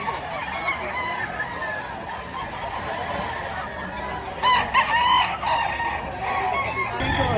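Game farm chickens cluck and murmur steadily in a busy yard, with a rooster's call rising briefly in the middle over the constant clatter of fowl.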